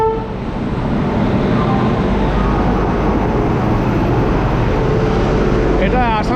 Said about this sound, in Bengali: আর এই হচ্ছে আমাদের এখন ট্রেন ঢুকছে